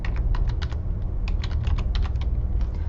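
Rapid clicking of computer keys as someone types a search into a Windows Start menu, crisp keystrokes in quick bursts with brief pauses, fairly close and alone.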